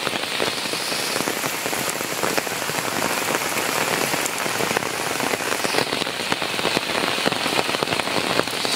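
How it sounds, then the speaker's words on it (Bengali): Pounding rain falls hard and close, a continuous wash of splashing drops with sharp crackly hits on surfaces, steady and loud from start to finish, no talking over it. "মুষলধারে বৃষ্টি হইতাছে"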